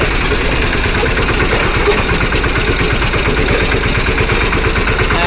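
Diesel farm tractor engine idling up close, a loud, steady low chugging throb with even rapid pulses and no change in pace, no voices.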